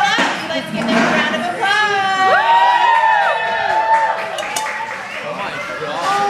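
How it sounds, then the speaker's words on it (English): A resort crowd cheers and whoops with some clapping, excited shouts and children's voices rising over a busy, loud wash of noise. "Let's give them a round of applause!"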